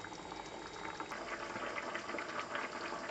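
Rabbit ragù broth simmering and reducing in a pot, a steady bubbling, popping texture that stays even and fairly quiet for a few seconds with no one speaking.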